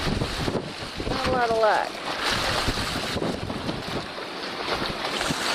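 Strong gusty wind from Tropical Storm Lee roars across a boat dock, a constant rushing noise with buffeting against the microphone, while a person speaks briefly over it.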